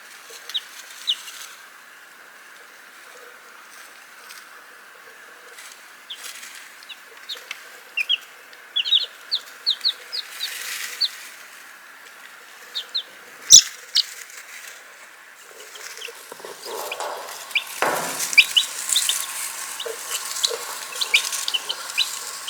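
Chickens and cockerels from a backyard flock cluck softly in scattered short calls, with a few louder squawks and a steady hum of background noise.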